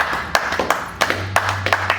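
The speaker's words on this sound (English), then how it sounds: "Let's clap it up real quick" Scattered hand claps from a studio audience, a handful of sharp irregular slaps spread over two seconds above a steady low hum, fairly close and moderately loud.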